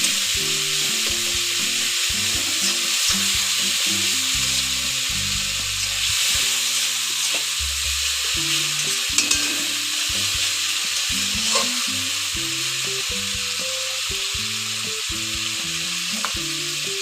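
Cabbage with ginger paste stir-fries in a pan for a vegetarian curry, making a continuous loud sizzle with irregular stirring scrapes throughout, no talking.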